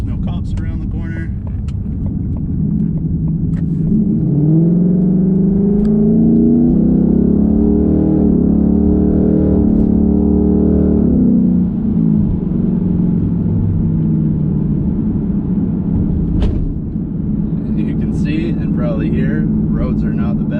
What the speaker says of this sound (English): We'll just do a little pull as long as there's no cops around the corner.